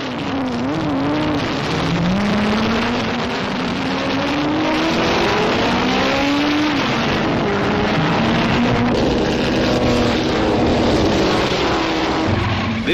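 Vintage Bentley and Alfa Romeo race cars compete in a long handicap race at Brooklands, with engines droning and rising in pitch steadily as the cars roar past, accompanied by loud, continuous mechanical noise throughout.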